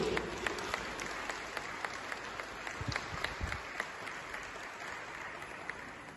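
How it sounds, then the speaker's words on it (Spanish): Congregation applauding during a Catholic Eucharistic community worship gathering, a sustained even roar of many hands clapping at a distance, fairly quiet and unbroken for several seconds, with faint voices underneath. "Dale un aplauso a Jesús."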